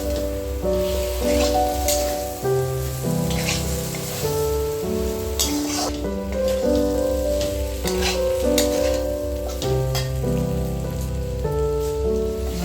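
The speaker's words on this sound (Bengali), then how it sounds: "আলু আর ফুলকপি দিয়ে দু তিন মিনিট এগুলো ভালো করে কষিয়ে নিচ্ছি" Fried potatoes and cauliflower sauté in a pan for a Bengali fish curry, with a steady crackling sizzle running continuously beneath background music.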